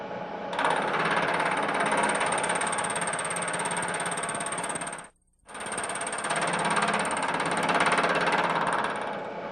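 A milling machine takes a roughly twenty-thousandths-inch cut across a metal part, giving a loud, steady, buzzing grind that runs continuously, breaks off for a brief moment, then resumes at the same level.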